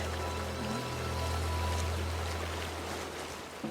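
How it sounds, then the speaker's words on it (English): Water from a small, unimpressive waterfall rushes in a continuous broadband wash on a forest hike, steady and moderately loud with no voices. "We eventually did find the waterfall, which was not impressive."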